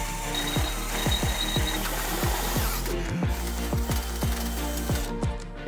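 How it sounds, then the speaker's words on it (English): Power drill boring through a Jeep JL Wrangler suspension bracket with a 1/2 inch bit, a steady close whining motor with repeated rhythmic grinding pulses as the bit bites into metal. "So now that I have both the pilot holes drilled, I'm going to use a 1/2 inch and go through on this side."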